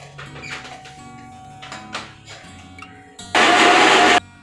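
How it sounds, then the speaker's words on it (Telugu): A kitchen mixer grinder grinding coconut, heard as a loud, steady whir that runs for just under a second after quieter clattering and handling sounds. "ఒకసారి పిండిసినవండి మళ్ళీ మిక్సీ పట్టుకున్నాం."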